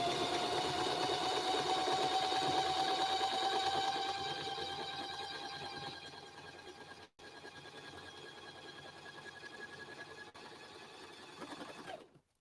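A rescued Kenmore 385 sewing machine stitches steadily and evenly for about twelve seconds, its motor hum and needle rhythm close and fairly loud at first, then settling slightly quieter with a brief pause before stopping.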